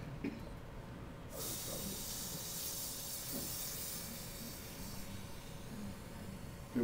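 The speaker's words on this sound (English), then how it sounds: "If you listen, you can actually hear it filling up." Hydrogen gas flows into a Pringles can, a steady broadband hiss starting about a second in and running continuously at moderate level, with faint low rumble beneath and no talk.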